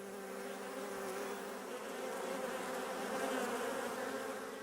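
Honey bees buzz inside a hive, a dense, steady hum of many wings that fills the space, close and continuous with no voices.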